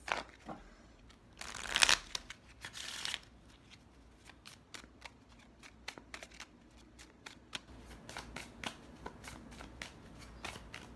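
A deck of cards is shuffled and bent, with a brief louder riffle near the start followed by a long run of soft, rapid flicks and snaps, close and quiet.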